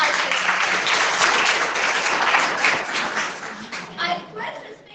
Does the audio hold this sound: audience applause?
yes